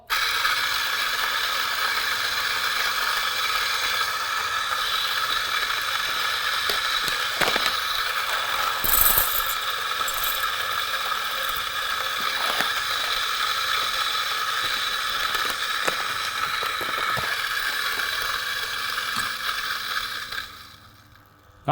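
A Turin DF54 single-dose coffee grinder whirs steadily for about twenty seconds, a bright continuous grinding buzz with small crackles, then cuts off abruptly.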